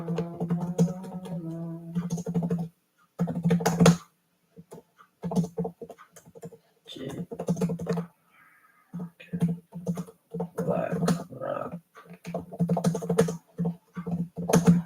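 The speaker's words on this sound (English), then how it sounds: "I'm typing out the list of stocks" Someone typing on a computer keyboard in quick bursts of close, crisp keystrokes separated by short pauses, with a voice talking in between and over some of the typing.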